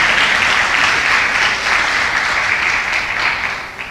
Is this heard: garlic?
no